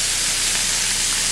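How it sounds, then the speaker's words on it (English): Meat sears in hot butter in a pan, a loud, steady, close sizzle and hiss that fills the whole brief moment without pause or voices. "we're gonna put the meat right in there, because I want this to be seared"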